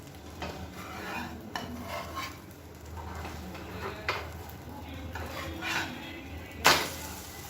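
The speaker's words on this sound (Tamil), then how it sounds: "கட் பண்ணி விட்டுட்டு அப்படியே திருப்பி போட்டுக்கலாம்." An egg omelette for a curry is cut and flipped in a frying pan, giving soft scraping and stirring sounds, light metallic taps and one sharper clatter near the end.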